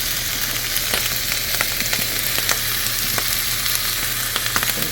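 Leftover salmon, carrots, tofu and sticky rice stir fry in a pan with a constant loud sizzle and crackle, broken by light scraping stirs, close and without talk.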